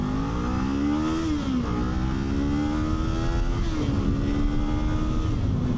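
A Kawasaki Z500 or Honda CB500F beginner street motorcycle engine revs hard while pulling away from a light, its pitch climbing and dropping between quick upshifts, loud and close with no talking.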